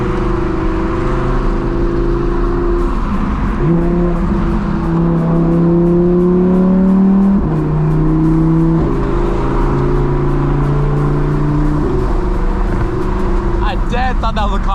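An Audi R8 engine revs and drones loudly up close, pitch rising and falling through gear changes, with crackling exhaust pops near the end and voices underneath.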